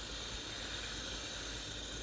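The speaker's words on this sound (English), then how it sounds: "it's starting to pressurize and you'll hear it hiss" Instant Pot hissing as it pressurizes while cooking sweet and sour cabbage, a steady broadband hiss of escaping steam that runs unbroken and fairly loud throughout, with no voices.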